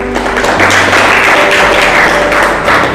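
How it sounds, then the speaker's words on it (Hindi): An indoor church audience clapping hands together, a dense loud burst of applause sustained for a few seconds. "हाँ, ताली बजाए।"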